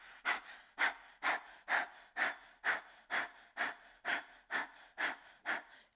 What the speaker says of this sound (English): stick your tongue out and begin breath of fire, panting like a dog